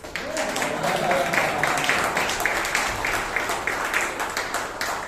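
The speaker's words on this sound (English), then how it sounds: "Can I get an applause, please?" An audience at a Toastmasters meeting claps steadily, a dense crackle of many hands applauding together throughout.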